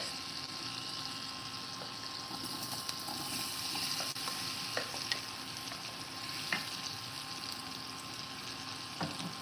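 Cajun potatoes fry in a skillet for breakfast, a steady close sizzle and hiss with occasional crackles and stirring clicks, continuous and without talk.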